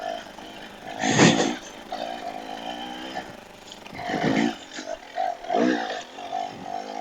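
A KTM 300 XC-W and a Beta 300 X-Trainer dirt bike, both 2024 models, ride rocky single track, their two-stroke engines rising in revving surges, loud and close with brief gaps between bursts.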